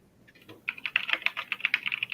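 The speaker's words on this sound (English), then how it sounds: "Got a lot of typing to do there, Ben?" Quick keyboard typing nearby, a brisk patter of clicky keystrokes that starts softly, then runs steadily for about a second and a half with no voices.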